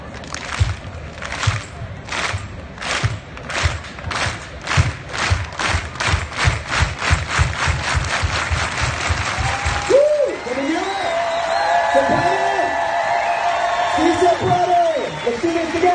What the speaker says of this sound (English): let's do the unity clap together